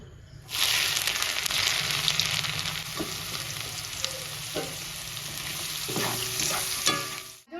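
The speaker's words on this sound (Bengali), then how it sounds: "এবার গাজরটা ভেজে নেবো তেল গরম হয়ে গেছে" Carrots start frying in hot oil in a scorched kadai, a sudden loud sizzle that settles into a steady close hiss, with occasional stirring scrapes and knocks.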